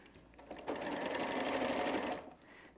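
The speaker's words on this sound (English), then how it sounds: "And then you just sew across the flat side." A sewing machine runs a seam across the flat side of a fabric tote bag made from quilting charm packs, one fast, even burst of rapid needle clatter that starts, holds for about a second and a half, then stops, close and alone.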